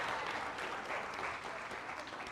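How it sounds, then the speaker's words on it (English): Steady applause from an audience of women at a community gathering, dense and even throughout, moderately loud with no pauses. "So women, come on, give these men a round of applause."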